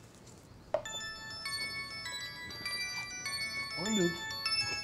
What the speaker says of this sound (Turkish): Ay pardon, telefonum çalıyor da.